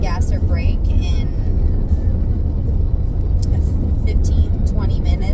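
Car cruising on a long open road trip, a steady low road and engine rumble throughout, with a person talking over it.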